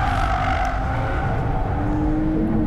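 A BMW M240i on a race track heard from outside, a steady loud engine drone with a constant tone, close and unbroken, no talking.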